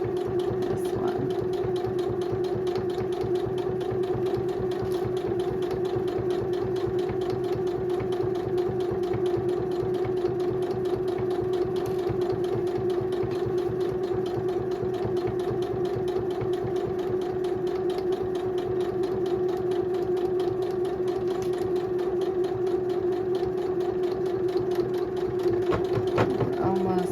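A sewing machine runs steadily, stitching a seam through four to five layers of fabric during a vintage dress alteration, giving a continuous close, even mechanical whir with a fine rapid needle rhythm for the whole stretch.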